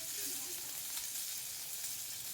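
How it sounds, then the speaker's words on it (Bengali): Ash gourd sizzles steadily as it fries in a pan with turmeric, a dense, even hiss of hot oil that stays loud and close throughout, with no voices. "আমি একটু ভালো করে ভেজে নিচ্ছি ভালো তার চাল কুমড়োটাকে"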